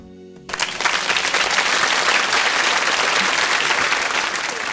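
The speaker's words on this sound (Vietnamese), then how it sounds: "Xin được cảm ơn những tràng pháo tay thật đồng nhiệt của quý vị" Loud, sustained applause from an audience for a priest's singing, rising sharply after a song's final note and continuing steadily without pause.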